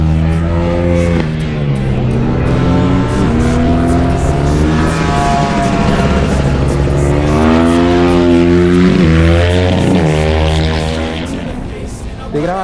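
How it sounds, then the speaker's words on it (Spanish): A motorcycle engine revs and drones past at a go-kart track with sand and asphalt sections, its pitch rising and falling in loud, continuous sweeps over steady background noise. "Miren esa moto."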